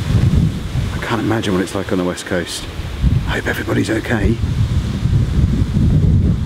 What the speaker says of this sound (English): so you can hear the wind gusting around behind me. The fences are rattling